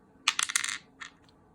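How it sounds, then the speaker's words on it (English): A six-sided casino die with a red tint clatters across a hard surface, giving a quick burst of sharp rattling clicks, then a couple of fainter taps as it settles, close and alone. "We're going to start off with a simple 6-sided casino dice."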